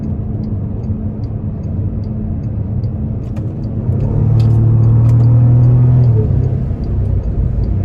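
Heard from inside the cabin at highway speed, the twin-turbo engine of a 2012 Bentley Continental Flying Spur Speed swells from a steady low road rumble into a deeper, louder surge as the car accelerates, then eases back.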